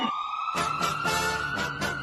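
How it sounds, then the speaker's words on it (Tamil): An ambulance siren wails through street traffic, a loud, near, sustained tone that keeps rising and falling over a constant background of road noise. "ஆம்புலன்ஸ் போகட்டும்"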